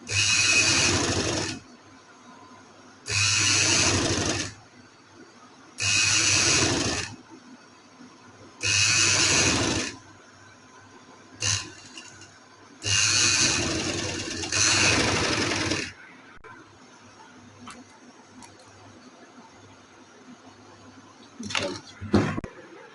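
Sewing machine stitching fabric in loud repeated bursts of about two seconds each, separated by short quiet gaps, with small clicks and handling sounds near the end.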